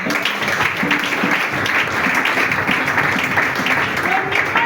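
A church congregation applauds together in steady, dense clapping that carries on throughout, with voices calling out over the applause.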